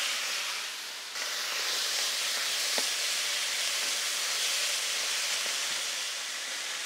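Tuna, anchovies and capers fry in a hot pan with a loud, steady sizzle and hiss, close up and continuous, briefly swelling as the food goes in, with no talking.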